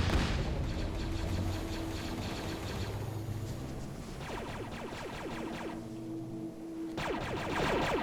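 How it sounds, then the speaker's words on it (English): A radiation cannon firing in a video game, rapid bursts of mechanical rattling shots in several clusters over a constant rumbling game background, fairly loud and continuous. "All those little green shots you see, that's the radiation cannon going at work"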